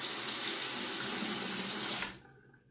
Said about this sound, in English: I'm going to go ahead and rinse this under the tap for comparison.